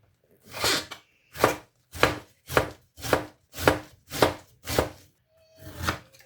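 Cabbage is chopped on a cutting board in eight firm, evenly spaced knife strokes, close and distinct against near silence.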